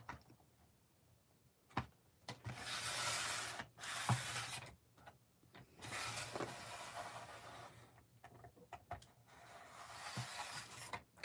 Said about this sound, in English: This is a rotary trimmer from Fiskars.